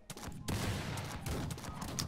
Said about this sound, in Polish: Tam już pierwsze strzały lecą.